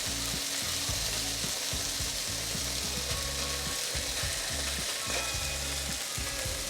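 Beef for fried rice sears over medium heat in a pan, a loud, dense, continuous sizzle with faint clinks of a utensil underneath and no speech.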